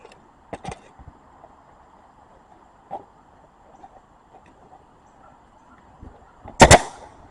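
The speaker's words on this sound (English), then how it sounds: "I got a nail gun because I try to do stuff easy as much as I can." A nail gun fires into roof shingles during a roof repair, with a few scattered light taps and one sharp, loud shot near the end, close by against an otherwise quiet background.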